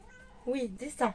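A pet cat gives two short, close meows in quick succession, with someone speaking softly to it.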